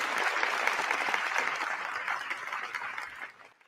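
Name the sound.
applause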